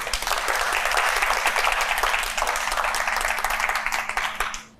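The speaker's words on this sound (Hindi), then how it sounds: "तालियां बजाएं।" A studio audience on the Tamasha Season 2 reality show claps in a steady, loud burst of applause that fades out at the end.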